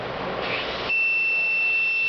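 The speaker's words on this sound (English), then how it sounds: "When low pressure as well as high pressure, you get an alert through buzzer." A vehicle tyre pressure monitoring buzzer on a CAN-based security system gives a steady, sustained electronic tone that starts partway through and holds to the end, over a faint background hiss.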